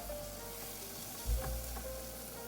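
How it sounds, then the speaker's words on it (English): Minced beef and onions fry in hot oil in a pan with a steady, dense sizzle, broken midway by a brief low thump as the meat is stirred. "I add the minced beef and start breaking it up."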